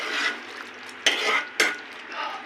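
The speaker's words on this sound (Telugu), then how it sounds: "ఇప్పుడు ఇదంతా బాగా కలుపుకోవాలి." A spoon stirs a thickening curry in a pan, soft scraping swishes with two sharp clinks of metal against the pan, close and fairly quiet, with no talk.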